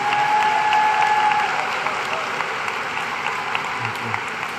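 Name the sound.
audience applause for graduates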